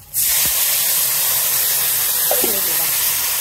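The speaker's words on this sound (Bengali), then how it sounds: "এবার আমি এটাকে সাঁতলে নেব" Fried onion and green chili sizzle loudly as they are sautéed in a pan for a drumstick flower and leaf curry, a dense, steady close hiss that starts abruptly and runs throughout, with faint clinks.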